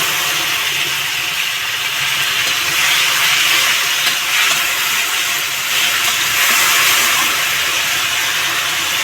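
Tomato paste hits a hot pan while elephant foot yam curry is cooked, producing a loud, dense, steady hiss of sizzling that holds evenly from start to finish without speech.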